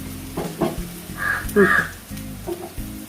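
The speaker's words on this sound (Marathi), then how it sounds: "आपण आता एक एक कबाब ह्याच्यामध्ये सोडून घेऊया अशा प्रकारे आपल्याला हे शॅलो फ्राय करायचे आहेत" Mackerel (bangda) kebabs shallow frying in hot oil, a close crackling sizzle with short bursts as pieces go in, steady throughout the short stretch.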